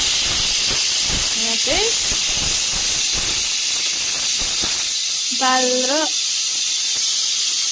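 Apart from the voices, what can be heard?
pressure cooker whistle hissing steam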